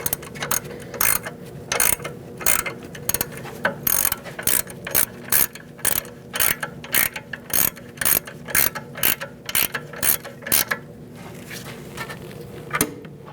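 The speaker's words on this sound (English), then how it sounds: "I'm going to use my ratchet wrench to tighten this up." Rapid ratchet wrench clicking in repeated bursts while tightening bolts on the rear wheel hub of a 2008-2014 Mercedes-Benz C300 during a wheel bearing replacement, close and crisp, with short pauses between strokes.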